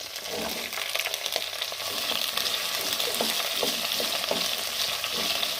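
Dried red chillies and chopped brinjal fry in hot oil for a Kerala sambar, giving a steady close sizzle with soft stirring clicks throughout.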